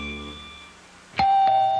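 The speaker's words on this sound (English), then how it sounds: "The doorbell rang" Doorbell ringing, one sharp loud chime that strikes suddenly and leaves a bright, sustained ring, with a second fainter tap just after, over a background tone.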